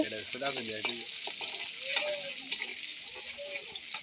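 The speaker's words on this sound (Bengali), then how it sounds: "দেখেন চিংড়ি মাছ নাড়াচাড়া করতেছি" Shrimp frying in a pan is stirred, producing a continuous bright sizzle with soft scraping movements, fairly quiet, while faint voice-like tones drift in and out at the start without clear speech.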